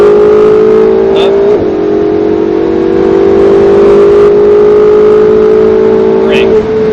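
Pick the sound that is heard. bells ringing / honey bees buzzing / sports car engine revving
sports car engine revving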